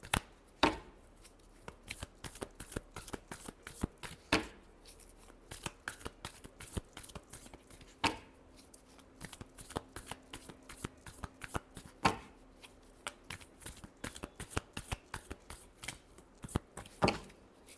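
Tarot cards shuffled by hand in a quiet room, a quick run of sharp riffling flutters broken by a few louder slaps and riffles, with no talking.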